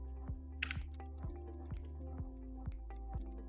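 Computer keyboard keys tapped in a steady, evenly spaced series of clicks, close and clear over a low constant hum, while drafting curves in Rhino software.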